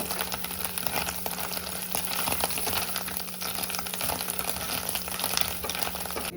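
Paneer fries in a pan on a gas stove with a steady, dense sizzle that carries on unbroken, close and fairly loud, with no voices.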